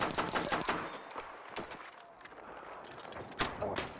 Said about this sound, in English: So I killed the guy with the shotgun with one shot.